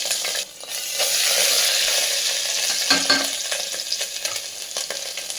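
Ginger garlic paste, turmeric and spices sizzling hard in hot oil for a bean (goru chikkudu) curry, a dense steady hiss with a brief drop at the start and faint stirring scrapes, no talking.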